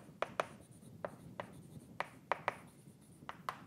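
Chalk or marker writing on a board during a math lecture, a series of short tapping strokes at an irregular pace over a faint room hum.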